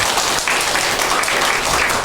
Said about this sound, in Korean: 외부에서 오셨으니까 감사의 박수